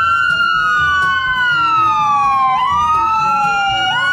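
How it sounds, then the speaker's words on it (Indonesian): An ambulance siren, loud and close, wailing in long sweeping rises and falls with a sharp jump partway through, over a low engine rumble, with no voices. "Mobil ambulans."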